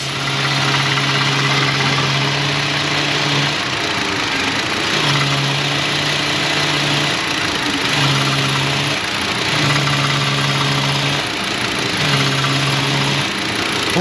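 Car engine idling steadily in an auto repair shop with the O2 sensor unplugged, a close, even hum with a rhythmic low drone that pulses on and off, no talking.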